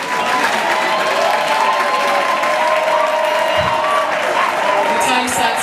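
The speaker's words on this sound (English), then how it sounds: "Round of applause" A camp audience at a platoon debate session applauds, a loud sustained wash of clapping and crowd noise with a low hum and some voices mixed in.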